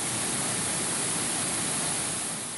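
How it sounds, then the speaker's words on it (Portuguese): A flooded creek in Pampulha runs as a strong current, a dense, continuous roar of rushing water that stays loud and even throughout, with no voices. "o córrego virou um rio de forte correnteza"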